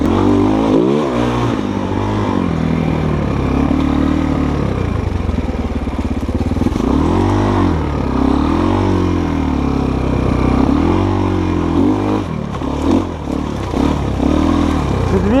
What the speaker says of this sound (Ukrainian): Я даю газку, бляха, і нічого не можу зробити, бо він тупить.